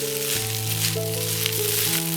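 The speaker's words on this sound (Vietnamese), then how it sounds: "Đối với cơm này thì mình cứ xào khoảng tầm 5 đến 7 phút" Rice being stir-fried in a pan with dried anchovies and pickled greens, a steady close sizzle and crackle of frying running throughout with faint scraping of a spoon as the grains are pressed and turned.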